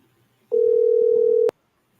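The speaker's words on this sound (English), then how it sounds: "Let me call Rodney Charles. See if he go pick up your phone" A steady telephone dial tone sounds while a call is placed, a single clean tone lasting about one second, loud and close, then cut off abruptly.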